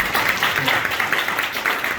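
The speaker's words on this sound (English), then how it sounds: "let's give our speaker applause" Audience at a real estate seminar applauds the speaker, a continuous, moderately loud patter of clapping from a room of people lasting the whole moment.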